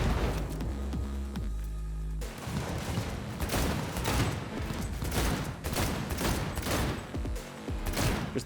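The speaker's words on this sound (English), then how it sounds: "So the guns feel really good in this game. They sound good." Rapid bursts of automatic gunfire in the video game Cyberpunk 2077, loud and dense, rattling almost continuously with brief gaps over a low throbbing game soundtrack.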